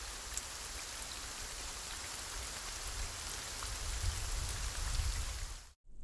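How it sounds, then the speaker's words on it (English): Rain falls across a rendered rainy coastal scene, a dense, even hiss of drops with a low watery wash beneath, continuous until cutting out abruptly near the end. "Here is a rainy coastal scene with dynamic rain effects."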